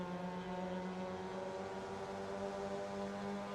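Mazda MX-5 race car engine held at very high revs during an MX-5 Cup race at St Petersburg, a steady sustained engine drone with no break across the whole stretch, faint and distant.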